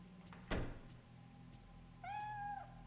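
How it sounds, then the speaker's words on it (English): A single short meow from a cat in the horror game Fatal Frame 3, heard once near the end after a soft thump, quiet and alone against a low background hum. "There's a cat!"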